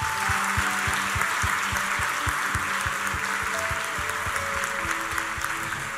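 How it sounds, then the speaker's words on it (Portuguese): A church congregation applauds in steady rhythmic claps over sustained instrumental tones, the clapping continuous and fairly loud throughout. "Podemos louvar ao Senhor com uma salva de palmas?"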